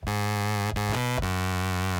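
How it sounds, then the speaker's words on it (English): A bass line played through a fuzz pedal in its bright fuzz mode at about 96% wet, thick and buzzing with a harsh, saturated edge, a few sustained notes with brief breaks between them. "I've got it turned to the fuzz mode, which is a much brighter setting on this pedal tool."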